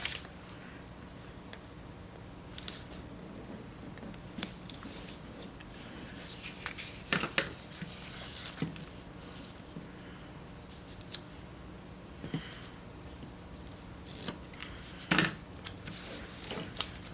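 Intermittent snips and crisp cuts of scissors through paper, faint and close, with rustling between irregular clicks over a steady background hum.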